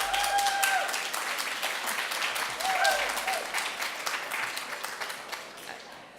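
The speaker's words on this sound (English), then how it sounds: "No more of that cheering." A dinner audience at a celebration event bursts into sustained applause mixed with cheering and a few whistles, dense and loud at first, then slowly thinning out.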